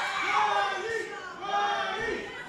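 Crowd cheering at a live women's wrestling event in Ridgefield Park, a loud swelling roar of voices with an announcer speaking over it.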